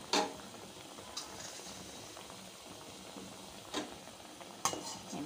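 Bread besan toast fries in a pan with a soft low sizzle, broken by a few sharp scrapes or clinks of a utensil on the pan, close and fairly quiet, without talking.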